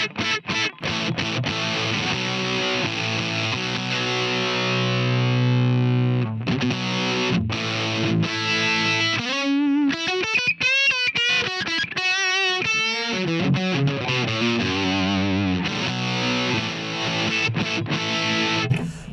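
An electric guitar played through a Line 6 Helix with a fizzy, heavily distorted tone, sustained chords and single-note bends ringing loud and close with no voice over them.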